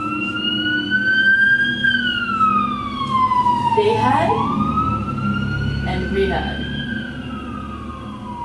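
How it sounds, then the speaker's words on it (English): A loud wailing siren sweeps up and down, fire-engine style, while a person speaks over it. "They had a fire. That's why the sirens are there."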